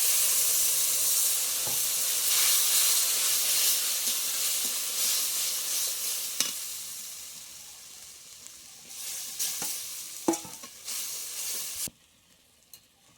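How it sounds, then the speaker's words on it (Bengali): Boiled moong dal with turmeric goes into a hot pan of tomato and green chilli, giving a loud hissing sizzle that slowly settles, with scattered spoon knocks and stirring scrapes before an abrupt drop to near quiet. "হলুদ গুঁড়ো সেদ্ধ করে রাখা ডালটা দিয়ে দিলাম"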